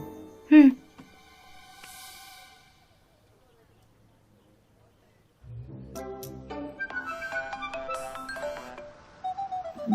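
A short electronic phone ringtone melody plays, followed by a quiet pause, then a livelier tune with layered tones takes over.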